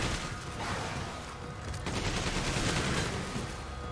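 Dense, continuous machine gun fire in the co-op video game Resident Evil 5, loud and steady with overlapping rapid shots throughout.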